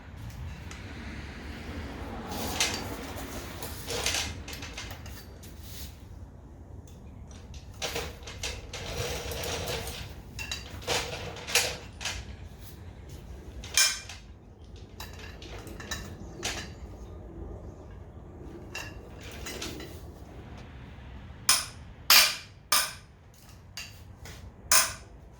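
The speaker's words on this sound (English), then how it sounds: "Let's get to disassembling these connecting rods." Metal clinks, taps and clatters ring out sporadically while a 12-point socket is used to take apart the connecting rods of a junkyard Toyota 2JZ-GE engine in a workshop, with sharper knocks near the end.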